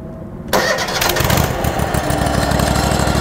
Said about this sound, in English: I'll go ahead and start the engine.